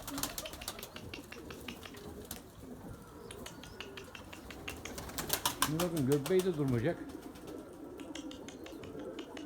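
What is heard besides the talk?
Erzurum white pigeons cooing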